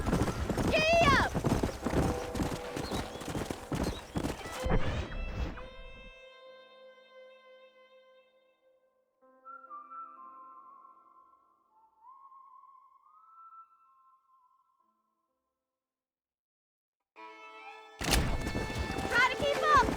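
A horse gallops in the Red Dead Redemption video game, with bursts of quick hoofbeats at the start and again near the end. A quiet stretch between them carries faint whistle-like tones, and a voice may be heard briefly.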